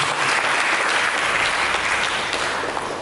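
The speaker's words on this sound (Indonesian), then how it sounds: "Mari kita berikan tepuk tangan kepada Yesus." A church congregation claps together in a dense, sustained burst of applause that fills the room, loud and even from start to finish.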